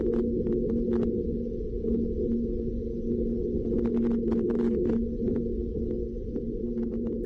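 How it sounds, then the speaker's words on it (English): Wind on Mars picked up by the Perseverance rover's microphone, a steady low rumbling roar with a faint constant hum and scattered soft clicks, continuous and without voices. "Now that, my friend, is Mars. That is the sound of Mars."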